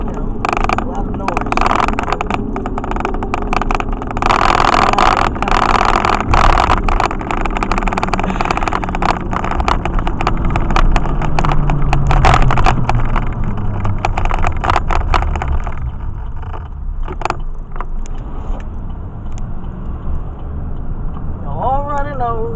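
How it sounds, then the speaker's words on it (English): A truck on knobby tires drives through a downtown street, with loud, steady road and tire roar over an engine hum that eases off toward the end; a voice is briefly heard. "Knobby tires makes, a lot of noise."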